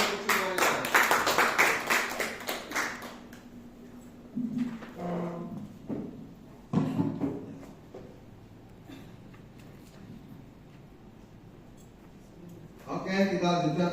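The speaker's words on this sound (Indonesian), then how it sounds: "tepuk tangan untuk semuanya" Applause breaks out in a classroom or training session: a burst of clapping at the start, then a few scattered claps among murmuring voices, and a final round of clapping near the end.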